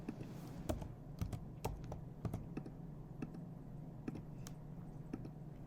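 Computer keyboard keys clicking at an irregular typing pace during a Windows installation in VMware, with crisp near keystrokes over a low steady hum and no voices.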